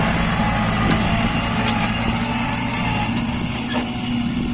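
Diesel tractor engine working a freshly ploughed rice paddy field on a farm, a steady close drone with a low harmonic hum and constant loudness throughout, no talking.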